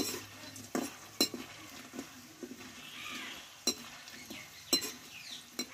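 Pea snack fries in hot oil with a steady soft sizzle, broken by stirring scrapes and occasional sharp clinks of a metal spoon against the pan, close by.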